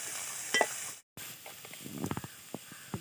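Onions sauté in a pan for green pepper chicken, a quiet sizzle with scattered soft crackles and stirring scrapes, briefly cut by a short gap of silence.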